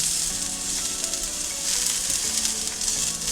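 Zucchini, green onion and ginger sear in a hot pan for a rice bowl, giving a loud, steady sizzle that crackles without pause from start to finish, with no voices.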